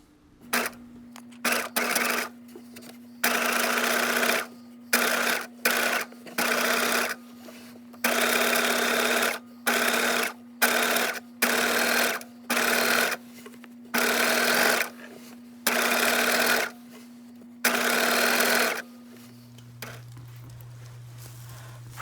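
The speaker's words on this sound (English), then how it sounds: "Sew the seam again, this time right side together with a line of stitching 5/8 inch parallel to the first seam." A sewing machine stitches a skirt seam in a series of short bursts separated by pauses, loud and close, with a steady tone under the runs and a different hum at the end.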